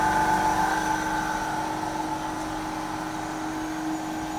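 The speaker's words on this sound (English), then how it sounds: "This is the compressor, 30 horsepower, Vision, and this is the model." A Vision 30-horsepower compressor on an ice machine runs with a steady mechanical hum and whine, a constant close drone without speech.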